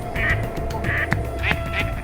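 Ducks quack at a pond at night after being disturbed, giving several nasal calls close by over a constant background hum.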